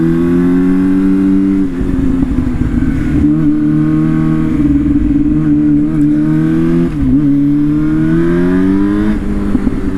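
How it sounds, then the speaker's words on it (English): Engine of an R6 sportbike motorcycle while riding, a loud, close, steady mid-range drone that rises and dips with throttle changes and short gear-shift breaks, with no voices. "it's been a while since I've ridden a sport bike."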